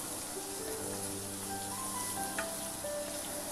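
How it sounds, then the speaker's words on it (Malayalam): Onions sauté in a pan for a soya chunks roast, giving a soft, steady sizzle with faint crackles and stirring, quiet and close with no speech. "സവാള നല്ല ഗോൾഡൻ ബ്രൗൺ കളർ ആവണ വരെ വഴറ്റണം"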